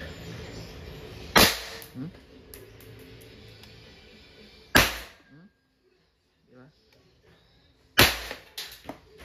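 An Umarex TP 50 tactical airgun pistol in .50 caliber fires at a target three times, each a sharp, loud crack spaced several seconds apart, with faint handling noises in the quiet gaps.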